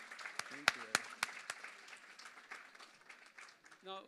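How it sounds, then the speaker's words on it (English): Applause for Mahendra Bhai at a Paryushan cultural program and general body meeting: scattered claps from a modest indoor audience, sharp at first and then thinning to lighter patter, with a voice speaking briefly at the end. "give a round of applause to our Mahendra Bhai"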